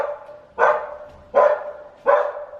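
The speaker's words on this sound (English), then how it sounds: "there's a dog right on cue." Three evenly spaced, moderately loud barks from a neighbour's dog near a flat, each a short sharp burst with a brief tail, heard alone with no talk.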